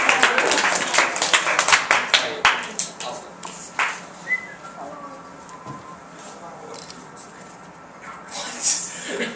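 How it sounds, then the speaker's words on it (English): A classroom audience claps for a student group performing Shakespeare's Twelfth Night, dense and close for several seconds, then thinning to scattered claps as voices and a brief whistle rise over the room. "Let's applaud."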